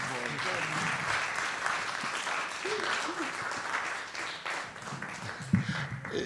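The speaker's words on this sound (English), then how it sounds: "Samir and Cillian and Matt, please, one more round of applause." An audience at a panel event applauds steadily for several seconds before the clapping thins and fades into scattered claps.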